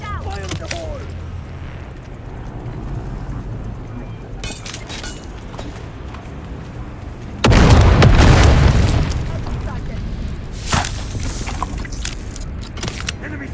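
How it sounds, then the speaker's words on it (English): A grenade detonates in the video game Dune: Awakening, a loud broadband boom bursting in about halfway through and decaying over a couple of seconds, with background game ambience and fainter thuds before and after. "Grenade out! Fire in the hole!"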